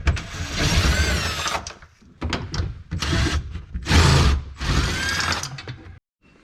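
A ratchet spins out 10 millimeter bolts in several bursts of rapid clicking and whirring, each lasting about a second with short gaps between, close and fairly loud.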